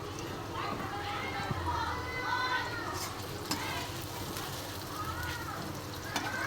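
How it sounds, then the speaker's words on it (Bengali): Boiled soybean chunks fry in hot oil, giving a steady dense sizzle and crackle with small pops throughout, close and fairly loud. "গরম তেলে সোয়াবিনটাকে ছেড়ে দেবো"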